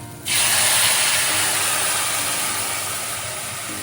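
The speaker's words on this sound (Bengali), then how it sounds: "গরম জলটা আমি এবার এর মধ্যে দিয়ে দিলাম" Hot water poured into frying spiced tomato masala for a papad curry bursts into a loud, sudden sizzle that holds steady as hissing steam and slowly eases off, with no voices.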